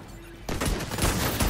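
Gunfire in the shooter game The Division 2, a sudden loud burst of rapid shots that starts abruptly after a quiet moment and continues densely to the end.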